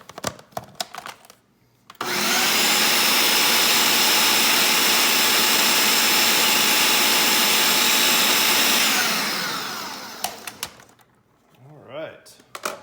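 A food processor blends homemade basil pesto with lemon and almonds, a loud steady whirring roar lasting about eight seconds, with a few clunks and handling knocks before and after and brief speech near the end.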